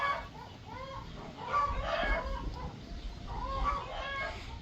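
Hens clucking and cackling with a rooster joining in, a busy chorus of birds calling over one another at moderate volume, fairly close.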